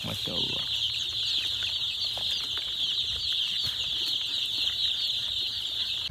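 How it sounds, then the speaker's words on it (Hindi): Small farm chickens, kept alongside ducks and rabbits, make soft clucks and a brief flutter of wings near the start, over a steady loud insect-like buzz that runs through the whole scene. "cute little chickens"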